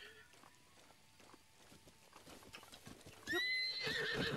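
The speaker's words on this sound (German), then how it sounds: "Oh, ein wildes Pferd." A wild horse in the video game The Legend of Zelda: Breath of the Wild whinnies loudly near the end, after quieter hoof clops and some talking; the neigh is bright, high and sustained.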